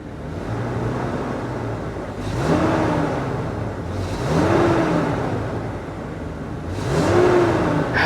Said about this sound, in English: Let's give her a little rev.